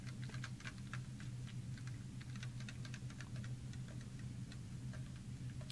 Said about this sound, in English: Get that stirred up here.